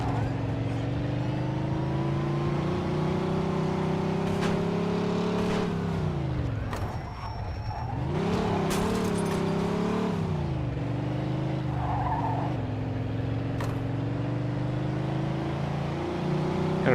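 Car driving in Mafia 2, a continuous engine drone whose pitch rises and falls as it speeds up and slows down, with a few sharp knocks and faint speech under it.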